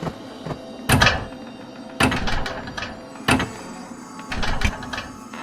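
A series of heavy thuds and scraping clunks in a video game, spaced a second or so apart, over a steady mechanical hum, as a box is lifted and moved around.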